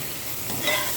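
Onions sautéing in oil in a pan give a steady close sizzle with a soft stirring scrape, brief and without talk.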